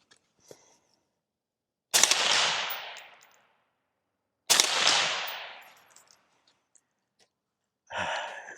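Two loud rifle shots fired through a TiTrex 360Ti suppressor, each a sharp crack with a long fading tail, a few seconds apart outdoors, with a faint click and brief rustle between them.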